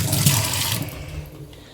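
Water runs and splashes loudly into a bowl in a Bengali home kitchen to soak bhola fish, a gushing pour that fades over under two seconds.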